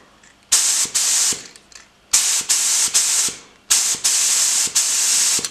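A spray paint gun fed with compressed air releases loud, close bursts of hissing air, five or six separate blasts each lasting about half a second, with sharp clicks of the trigger between them.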